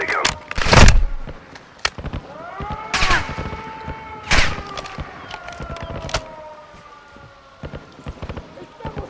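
Gunfire in the Modern Warfare II video game: several sharp, loud shots ring out at irregular intervals, with whistling sweeps and scattered voices between them.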